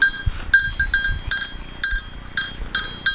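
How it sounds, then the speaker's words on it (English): Goats bleat repeatedly in a garden they are grazing, with short, sharp calls coming one after another, fairly loud and near, and no speech. "these goats are great"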